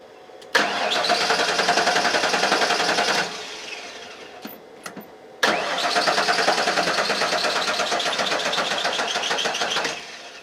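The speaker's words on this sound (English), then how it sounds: "When it hits 0, then we'll start the car again." A car with a weak battery cranks over in two long bursts of several seconds each, the starter whirring rapidly and evenly without the engine catching, with a pause and a couple of clicks between the attempts.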